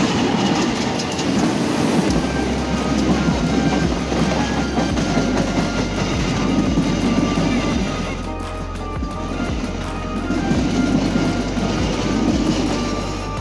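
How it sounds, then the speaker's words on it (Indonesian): The Pasundan train passes along the railway at Cimincrang near Al-Jabbar, a loud, steady rumble with rhythmic clickety-clack of wheels over rail joints, the low drone dipping briefly before surging again as the carriages roll by close at hand. "kereta api parsel selatan yang pertama melintas sudah terlihat"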